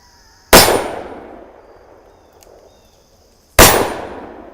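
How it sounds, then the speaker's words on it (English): An EAA Windicator .357 Magnum revolver fires two single-action shots about three seconds apart, each a loud, sharp, close blast with a long decaying echo. "I'm going to do some 357 Magnum. First 3 rounds single action."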